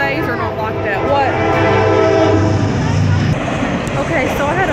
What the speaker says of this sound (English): I had to pause that for a minute, because the daggum train was blown and stuff